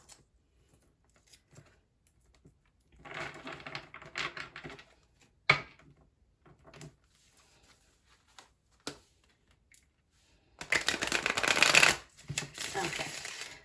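Arcanum Tarot cards are shuffled in soft, irregular bursts of riffling and flicking, quiet and close, with a louder sustained riffle near the end.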